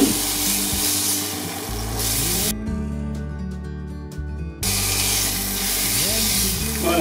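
Duck breast (magret de canard) sizzles and fries loudly in a pan, a steady close hiss with a brief quieter gap midway before the sizzle returns full.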